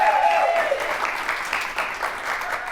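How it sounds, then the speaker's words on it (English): Studio audience applause fills the room, a dense, sustained patter of many hands clapping at close range that swells and dips slightly without fading out. "You come to work and people clap for you."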